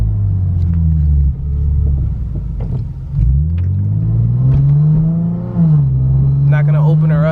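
A Lexus IS350 fitted with an FBO exhaust rumbles deep and loud from inside the cabin while driving, its tone rising and dipping through gear changes, with someone talking over it.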